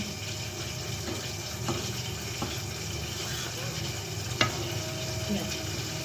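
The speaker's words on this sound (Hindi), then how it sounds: "अब हम इसे मिक्स करने वाले हैं मजे मजे से" Buldak carbonara noodles being mixed in a pan with the stove just switched off, a soft steady wet stirring hiss with a few faint scrapes and clicks, close and fairly quiet.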